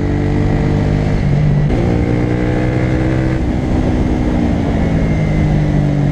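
A 2016 Honda CBR125R motorcycle runs at high speed on a road with gentle descents, straights and bends, its engine droning loud and steady with slight pitch shifts and continuous wind noise, and no talking.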